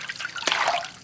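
Fruit is rinsed in water in an outdoor village kitchen, with a soft trickling and splashing of water that swells briefly in the middle, close and moderately quiet.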